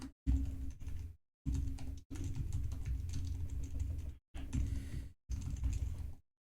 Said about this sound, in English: Oh, why am I typing string so wrong every time?